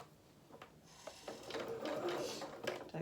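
A sewing machine stitches slowly around a small fabric hat for a festive toy, starting with faint clicks and building into a short, uneven run of stitching close by.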